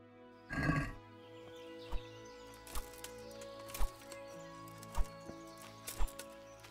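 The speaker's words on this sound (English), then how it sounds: "Here you go, horsey." A horse in Kingdom Come: Deliverance lets out a short, loud neigh near the start, followed by sparse hoof clip-clops and faint thuds spaced out over a quiet game ambience.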